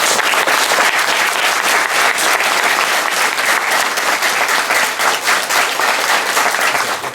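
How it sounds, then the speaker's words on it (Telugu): A large audience at a Pyramid spiritual meditation gathering in Bellary applauds in honour of Osho, with loud, dense, continuous clapping from start to finish. "ఒకసారి ఓషోకి చెప్పాలి కొట్టండి"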